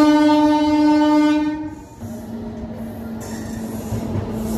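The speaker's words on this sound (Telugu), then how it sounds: "ఓహో, పక్కన ఏదో ట్రైన్ వస్తుందండి." A train passing on the neighbouring track sounds a long, loud horn blast that cuts off, then a steady rumbling roar of rolling wagons and wheels follows close by.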